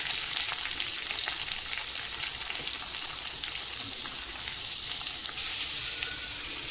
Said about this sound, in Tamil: குட்டியாக நறுக்கி வச்சுருக்கிற வெங்காயம் ஆட் பண்ணிக்கலாம்.